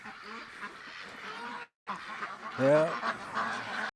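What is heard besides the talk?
ducks quacking during mating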